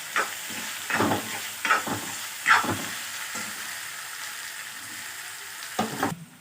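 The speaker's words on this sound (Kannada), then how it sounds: "ನೋಡಿ, ಈ ಥರ ಸ್ವಲ್ಪ ಗೋಲ್ಡನ್ ಬ್ರೌನ್ ಆಗಬೇಕು. ಆ ಥರ ಹುರ್ಕೊಳ್ಳಿ." Capsicum and potato fry in a pan for upma, a continuous sizzle broken by several scraping stirs of a spatula in the first half and another near the end.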